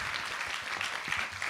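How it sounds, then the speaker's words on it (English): An audience applauds after a talk, with dense, steady clapping filling the room throughout. "I just want us all to give Christopher another big round of applause."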